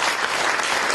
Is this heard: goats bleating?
no